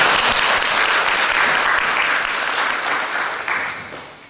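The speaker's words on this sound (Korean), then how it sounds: "박수 한번 할까요?" An indoor audience at a church gathering breaks into steady, dense applause that stays full for several seconds and then tapers off.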